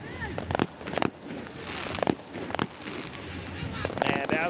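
Fireworks going off outside a football stadium during a CD Olimpia vs FC Motagua Concacaf League match, with repeated sharp cracks and bangs at an irregular pace under steady crowd noise and a commentator's voice.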